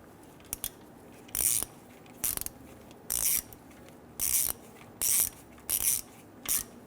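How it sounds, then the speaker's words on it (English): A 1/4 inch ratchet snugs down a transmission oil pan bolt on a 1999-2004 Jeep Grand Cherokee 4.7L V8, with seven short, close, crisp bursts of ratcheting clicks separated by brief pauses, no talking. "Now I'm just using a 1/4 inch ratchet."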